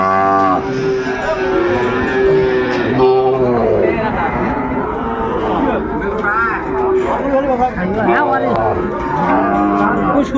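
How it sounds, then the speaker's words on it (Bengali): Shahiwal-breed bull calves moo loudly and repeatedly at a busy cattle market in Dinajpur, with long drawn-out calls over steady crowd chatter and people talking nearby. "ষাঁড় বাচ্চা।"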